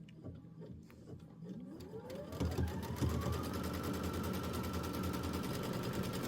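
A sewing machine stitching an outline on a quilt block, starting with slow stitches and then running at a steady rapid mechanical rhythm, close and continuous.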